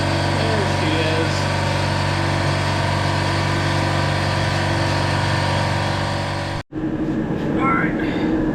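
Old, cheap tractor engine running at a steady, loud idle, a continuous rumble that cuts off abruptly near the end before lighter mechanical noise resumes.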